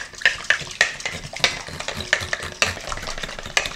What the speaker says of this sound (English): Now you can whisk this all together with a whisk, or you can get an egg beater, which we have right here.